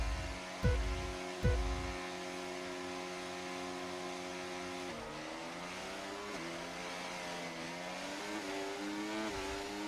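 A car revs hard from a standstill with two loud bursts of wheelspin noise, then the engine climbs through steady acceleration with brief shifts, the tone rising and dipping as it pulls away, no talk over it.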